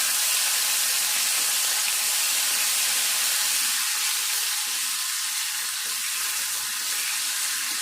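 Ginger garlic paste sizzles and hisses steadily in a hot pan for an egg curry, a loud, close, continuous frying noise with no talking.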